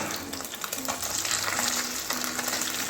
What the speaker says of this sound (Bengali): আজকে নন স্টিকার কড়াইয়ে ভাজলাম যাতে ভেঙে না যায়